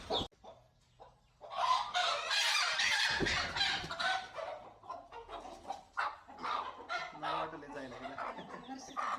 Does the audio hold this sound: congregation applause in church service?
no